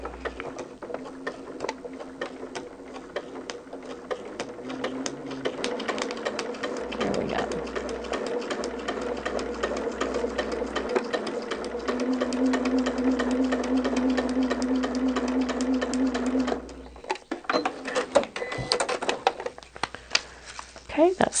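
Domestic sewing machine stitching through fabric in a steady, continuous mechanical whir with a low hum, close and loud, slowing and stopping near the end; a person talks over it.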